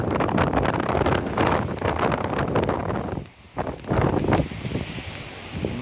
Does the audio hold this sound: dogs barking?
no